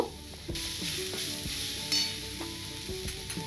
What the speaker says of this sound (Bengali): এবার আমি 2 চামচ আদা রসুন বাটা দিলাম। মশলাটা ভালো করে মিশিয়ে নেব।